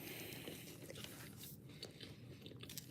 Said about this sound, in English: these Quest chips got some good crunch.